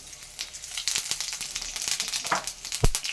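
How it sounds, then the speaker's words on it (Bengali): Cumin seeds crackle and sizzle in hot oil in a wok, a bright close fry with scattered pops and one sharp thump near the end, no voices. "কড়াইতে আমার একটু তেল দিলাম আর একটু জিরে।"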